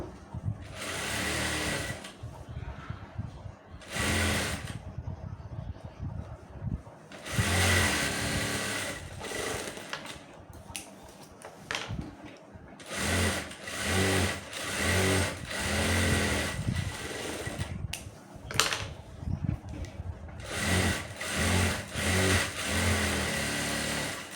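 A sewing machine stitches dress pant fabric in bursts of fast, whirring needle runs, loud and close, separated by brief pauses as the cloth is repositioned.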